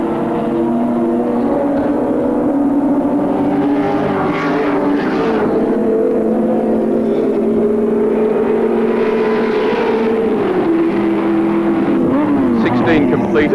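Mazda RX-7 racing cars passing on the Oran Park circuit during a 1984 touring car race, a sustained engine drone rising and fading across the clip beneath continuous race commentary.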